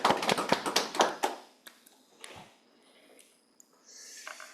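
Audience at a lecture on neurosymbolic AI clapping to welcome the speaker, a burst of dense applause that fades out within about a second and a half, followed by quiet room noise and a few faint scattered taps.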